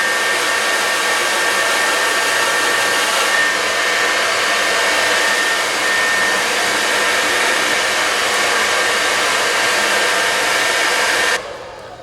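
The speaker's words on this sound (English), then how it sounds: "Now just remember, from root to tip for that easy, calm, gorgeous blow dry." A handheld hair dryer blows steadily and loudly on hair set on click-in rollers, a constant whooshing drone that runs unbroken before cutting down near the end.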